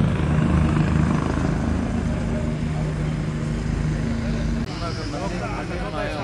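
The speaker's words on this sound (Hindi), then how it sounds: "हेलीकॉप्टर लैंड कर रहा है।" A helicopter carrying a chief minister lands at a helipad in Salasar, its rotor and engine giving a steady, loud drone throughout with crowd noise and talk mixed underneath.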